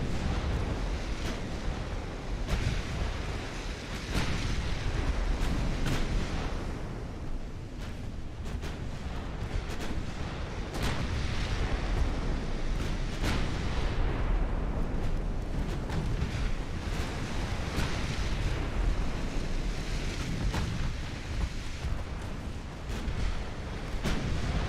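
Battleship artillery fire in the naval warfare game Ultimate Admiral Dreadnoughts: heavy guns boom again and again over a dense, rumbling battle din that runs the whole time, with no break and no talk.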